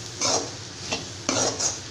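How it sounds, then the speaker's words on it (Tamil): A spatula scrapes and stirs through snake gourd frying in a pan with turmeric powder, giving a few brisk, close scraping strokes over a soft background hiss. "மஞ்சத்தூள் சேர்த்துட்டு நல்லா இந்த மாதிரி மிக்ஸ் பண்ணிக்கலாம்."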